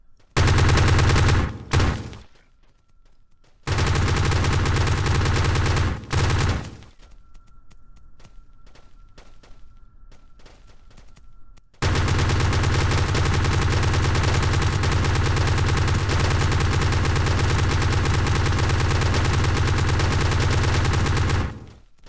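Massed automatic gunfire from a group of planes in Kerbal Space Program with the BD Armory mod, loud sustained bursts that cut out and resume, with a long unbroken volley at the end.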